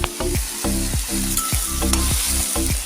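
White sesame seeds frying in a pan and being stirred, a loud close sizzle broken by repeated sharp scrapes of the spoon against the pan at a steady rhythm, with no voices.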